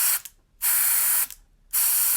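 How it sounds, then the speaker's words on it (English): Compressed air sprayed into the vents of a PS4 console during a dust clean-out: two loud, close hissing bursts, each about half a second long, separated by brief silence. "when I spray it, I'm actually seeing dust shoot out here"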